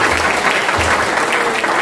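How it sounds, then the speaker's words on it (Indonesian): A church congregation cheers and applauds for the Lord, a dense, continuous wash of clapping filling the space at a loud, even level. "Sekarang berikan sorak-sorak ke Tuhan kita."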